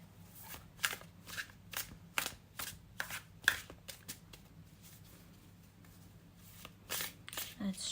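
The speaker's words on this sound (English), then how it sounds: "let's shuffle with intention." Repeated quick riffles of cards being shuffled, crisp snapping bursts at an uneven rhythm, close by and fairly quiet.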